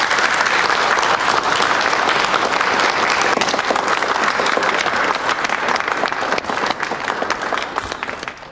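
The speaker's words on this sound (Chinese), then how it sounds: "掌声有请。" Loud, sustained audience applause and crowd noise welcoming a young jewelry designer on stage at a diamond collection launch, steady throughout and tapering slightly at the end.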